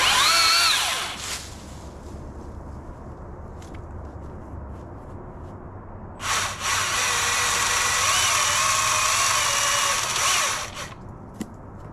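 A Milwaukee M18 telescoping pole saw cuts a tree branch outdoors: a loud whining motor burst, a quieter stretch, then a longer sustained high-pitched cutting drone of about four seconds that tapers off.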